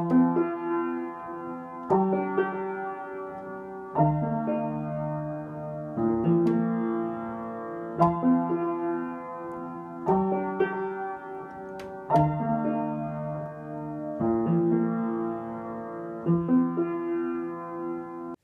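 Piano playing the chorus of a song with both hands, slow sustained chords struck roughly every two seconds, each ringing and fading, clean and alone.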